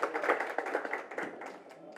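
Applause from an audience at a book launch event, a dense patter of many hands clapping together, fairly steady and moderately loud, with no voices standing out.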